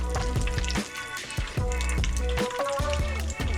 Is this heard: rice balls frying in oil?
yes